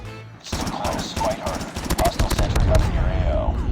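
Gunfire in the Call of Duty Mobile video game, a chicom firing repeated bursts of close sharp shots with a busy stretch of overlapping fire, while a voice speaks underneath.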